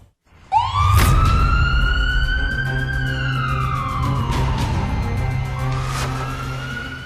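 Police cars with wailing sirens lead a red truck through the city streets of Jingxi, China, the loud rising and falling siren tones sweeping continuously over steady engine and traffic rumble.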